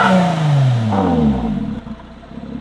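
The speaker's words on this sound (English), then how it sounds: "Alright guys, we're gonna give some revs." A Lotus Emira fitted with a titanium cat-back exhaust revs briefly, its engine note sweeping down loud and close before settling toward idle.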